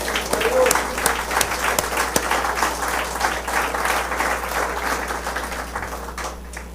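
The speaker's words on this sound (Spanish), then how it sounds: "Y yo le doy un aplauso a Jesús, el Hijo de Dios." A church congregation claps during a sermon in a hall, a sustained wave of applause up close that fades slightly toward the end, over a low steady hum.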